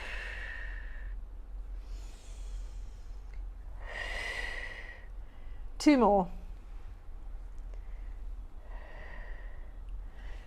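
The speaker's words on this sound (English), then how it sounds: "As you breathe out, I want you to imagine these ribs opening." Slow, breathy exhalations during a stretching exercise, soft airy rushes spaced a few seconds apart and close to the microphone, with a brief spoken instruction and a sharp squeak in the middle.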